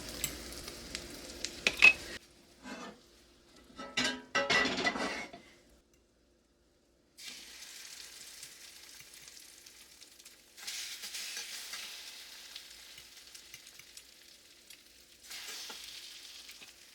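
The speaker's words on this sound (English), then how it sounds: "we're going to cook those until they're nice and golden brown on one side" French toast fries in a pan, giving soft intermittent sizzling with short bursts of stirring or handling noise, a silent gap, then quiet steady sizzle returning in stretches.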